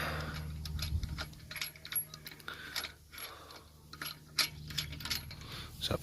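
A ratchet wrench works lug nuts off the front wheel of a 2015 Mitsubishi Outlander PHEV, giving repeated mechanical clicking and ratcheting bursts at close range, with short pauses between runs and no talking.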